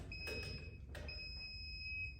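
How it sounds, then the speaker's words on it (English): Hot stick voltage tester beeping near ceiling wiring, a thin, steady high-pitched electronic tone that cuts out briefly and resumes, with faint knocks and handling noises underneath, quiet overall. "If it makes a beep noise"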